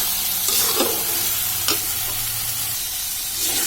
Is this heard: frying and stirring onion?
yes